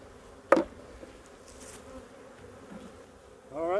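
Honeybees buzz around the hives. A sharp, close buzz passes early, the background stays quiet, and a louder droning buzz rises at the end.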